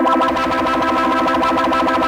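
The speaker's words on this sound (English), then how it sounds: "when you kind of clip it off, it's going to add that distortion, which is cool" An audio plugin's clipping distortion effect gives a steady, loud, harsh buzzing tone with dense harmonics and a slight pulsing wobble, sustained alone throughout.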